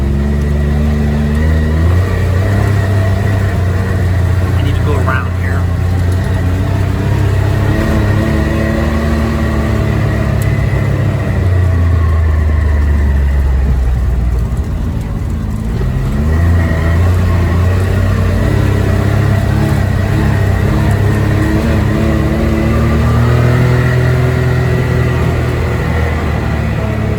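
A Can-Am X3 Maxx side-by-side with a homemade windshield is driven, its engine droning steadily up close, with the revs sagging and climbing in slow waves throughout and no voices.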